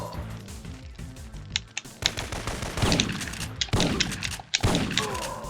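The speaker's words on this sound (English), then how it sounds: "I like how the shotgun does have a bit of range on it in this game as well" Shotgun blasts in Syphon Filter ring out in a quick irregular series of sharp, loud reports, some overlapping, mixed with other clattering gunfire and a brief voice in the background.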